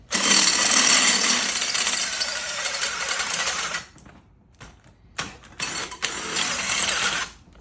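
An old Aokia cordless drill bores into steel with a loud, harsh grinding whir for several seconds, then stalls and cuts out before short bursts of renewed drilling follow.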